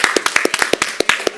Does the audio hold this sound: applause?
yes